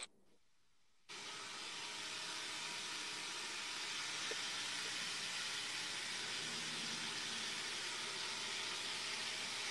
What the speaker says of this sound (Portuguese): A caixa d'água, velho.